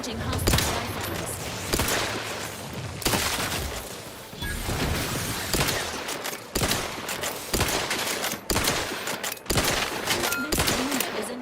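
Dense, continuous rifle fire from a firefight in The Outer Worlds 2, with sharp rapid shots overlapping throughout and a few heavier bursts. It sits loud and up close for the whole stretch.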